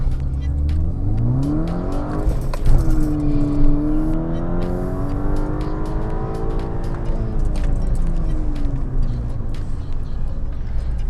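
A VW MK6 GTI accelerates hard from inside the car, its engine note climbing steadily through a gear with a brief shift break and some wheel spin. The engine roar is loud and continuous.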